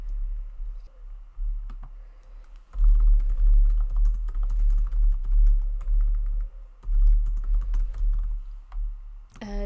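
Computer keyboard typing in bursts of quick clicks, close and fairly loud, with short pauses between runs of keystrokes while entering text into an AI website builder.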